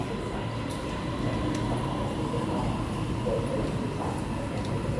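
A steady rumble of an MRT subway train arriving fills Sanam Chai station in Bangkok, continuous and fairly loud, with faint metallic squeaks over the low roar.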